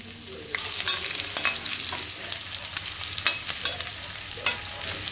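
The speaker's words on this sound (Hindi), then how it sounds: "अब इसमें लहसुन, मिर्ची, अदरक डालेंगे, बहुत महीन महीन कटा है।" Finely chopped garlic, chili and ginger sizzle in hot mustard oil while being stirred with scraping utensil clatter, a steady close frying hiss with no talk.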